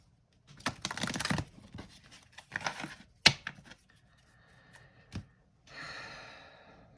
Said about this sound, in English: I think this deck wants to be shuffled and cut.